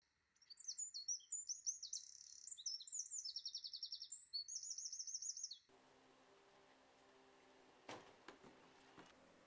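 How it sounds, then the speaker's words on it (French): Songbirds chirp and trill in rapid bright phrases in a quiet old Marseille neighbourhood, the calls close and clear for several seconds before cutting to a faint outdoor hum with a few soft knocks. "peuplé d'oiseaux chanteurs."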